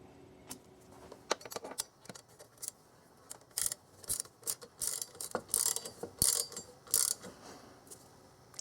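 A Torx security bit on a ratchet drives in the timing cover bolts of a 1995 Oldsmobile 3800 V6 engine. Close, irregular bursts of clicking ratchet pawl action come with metallic taps, and no one talks.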